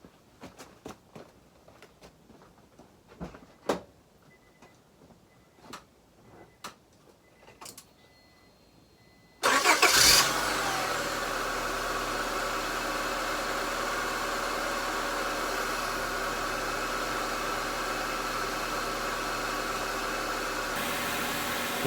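A car engine freshly refilled with 20W-50 oil starts and runs at a steady idle, a constant broadband hum heard close after some quiet clicks and handling noises.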